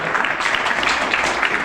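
A crowd applauds at a Himachali state award ceremony, a dense, even clatter of many hands that stays loud and continuous throughout.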